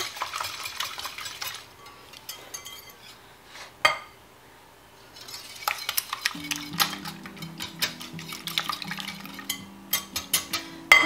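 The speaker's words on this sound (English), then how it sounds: "I'm just gonna kind of whisk the eggs together." Eggs being whisked in a bowl for a quiche, a rapid clatter of utensil against the bowl in bursts, close and fairly quiet, with a low hum joining in the second half.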